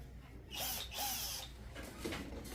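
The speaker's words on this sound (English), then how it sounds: "let's drill our holes." A power drill boring holes for home decor, two short whirring bursts of moderate level with a pause between and a fainter third run, no talk.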